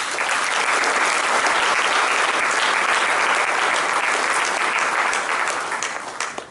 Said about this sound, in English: So a big round of applause there, please.